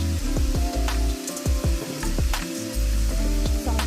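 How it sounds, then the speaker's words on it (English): Ground beef sizzles and crackles steadily in a pan, seasoned with adobo all-purpose seasoning, onion powder, garlic powder and black pepper, with repeated scraping stirs and utensil clicks throughout. "Now you just want to continue to cook your ground beef"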